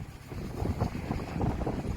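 Strong gusts of wind buffet the microphone on a bridge in London, a rough low rumble that swells and surges in waves for a couple of seconds, with no one speaking.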